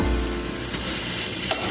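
Hilsa fish heads fry in hot oil for a chalkumro (ash gourd) dish, giving a steady close sizzle with a couple of soft utensil clinks, no voices.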